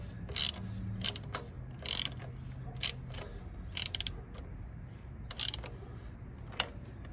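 A ratchet wrench tightens the valve cover bolts on a 2001 Toyota Camry, heard as short, close bursts of rapid clicking separated by pauses, each burst a quick run of metallic pawl ticks.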